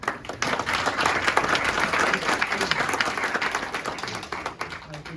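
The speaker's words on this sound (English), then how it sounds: "Round of applause" An audience at a city council meeting breaks into applause, dense clapping continuing throughout with faint background voices mixed in.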